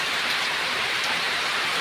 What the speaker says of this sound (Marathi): बाहेरच येता अचानकच पाऊस आला